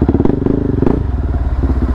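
Close, loud motorcycle engine chugging in a rapid pulsing beat, with a brief clatter midway before the idle rhythm settles back.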